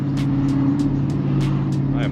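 Turbocharged Dodge Challenger SRT8 cruising at steady speed from inside the cabin, a loud constant engine drone with a repeating turbo whoosh, under a voice speaking.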